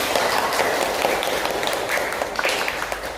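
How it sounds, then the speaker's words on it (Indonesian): Audience applause for a school dance group after a traditional dance performance in a classroom, a steady dense patter of clapping hands filling the whole stretch at close range. "Tepuk tangan dulu buat kelompok."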